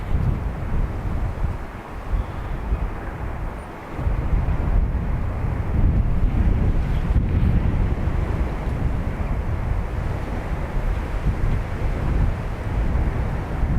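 Gusting crosswind buffets an outdoor microphone at Dublin Airport, a steady low roar that swells after a few seconds and keeps rumbling loudly throughout.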